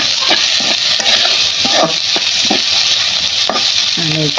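Papaya pieces fry and get stirred in a pan with puti fish, a steady sizzle broken by repeated scraping stirs and a few metallic clinks near the end.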